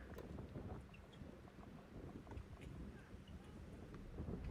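Wind gusts across an outdoor tennis court during a club match in rough conditions, a faint continuous rumble on the microphone with a few soft distant knocks and no clear speech.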